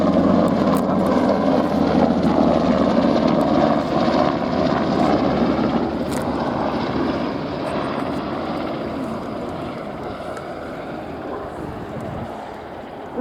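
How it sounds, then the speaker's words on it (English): A loud NH90 tactical transport helicopter roars steadily overhead at the Royal International Air Tattoo 2022, its heavy rotor and engine drone filling the air and slowly easing as it moves off. "the NH Industries NH-19 Tactical Transport Helicopter"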